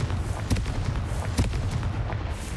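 In Hogwarts Legacy, a Confringo fire spell goes off as a series of sharp, booming blasts over a constant low rumble. The impacts are punchy and close, each one followed by a crackle, with no voice.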